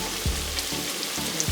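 Pork pieces sizzle and fry steadily in a pot for Jamaican brown stew, a continuous close crackle with a few soft knocks as the meat is turned.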